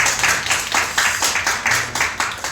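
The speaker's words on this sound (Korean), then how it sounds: "격려의 박수 할까요?" A church congregation claps in welcome during a Sunday worship service, a loud, steady, rhythmic applause of many hands with regular beats throughout.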